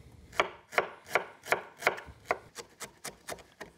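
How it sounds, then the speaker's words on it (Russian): A knife chops garlic and ginger finely on a cutting board, about a dozen crisp, evenly spaced strikes, close and clear with no talking. "Я рублю меленько чеснок и имбирь"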